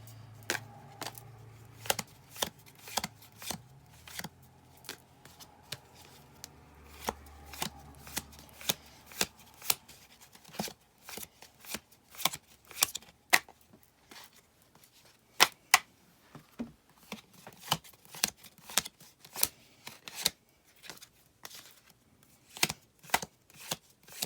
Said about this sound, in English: I saw the Emperor and Empress cards